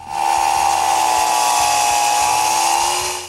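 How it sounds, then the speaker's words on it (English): Power saw cutting through the wooden top of a door frame, a loud steady high-pitched whine with a grinding undertone, held close throughout the cut with no talk. "Now we can cut the top of the frame."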